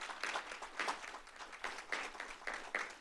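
Audience applause at a Fresno State University faculty and staff spring assembly, a soft, fairly faint patter of clapping with steady rhythmic pulses through a large hall, no voices over it.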